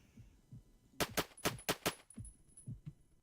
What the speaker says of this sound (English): That guy's using an M60.